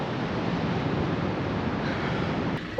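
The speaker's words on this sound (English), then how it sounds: "I don't want to be caught out by one of these big waves either as they surge up the beach." Constant roar of big ocean waves surging up a beach in Portugal, a dense broadband wash blended with wind buffeting the microphone, steady and loud throughout with a brief bump at the very end.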